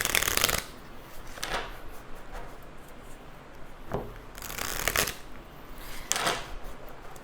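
Tarot cards being shuffled in several distinct bursts of crisp riffling, with quieter pauses in between, close and alone with no talk.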